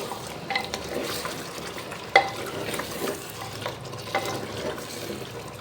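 Mutton pieces frying with tomatoes in a pot, a continuous close sizzle under repeated stirring and scraping, with one sharper clink of a spoon against the metal.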